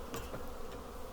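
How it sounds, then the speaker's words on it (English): Honey bees buzz inside a hive during a spring hive reversal, a brief low steady drone close by. "The bees have moved down into the lower box."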